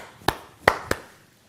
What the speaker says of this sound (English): Some of them have these teachers clapping